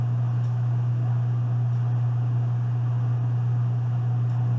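A space heater runs with a steady, low, droning hum and a constant airy hiss, unchanging and close by, with no talk.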